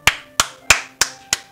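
Five sharp, evenly spaced hand claps ring out close by, each a crisp smack with a quick decay, with no voices.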